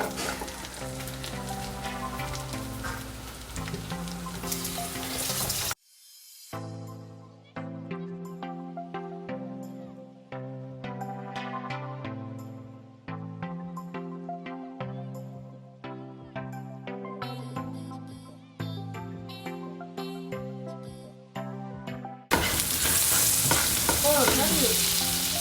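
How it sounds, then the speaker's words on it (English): Minced garlic frying in melted butter for garlic shrimp: a loud, steady sizzle opens and closes the stretch, with a long passage of tuneful music filling the middle. "we're gonna add some minced garlic"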